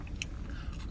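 Someone chews seasoned French fries close to the mouth, with a few brief, soft crunchy bites in quick succession against a quiet background.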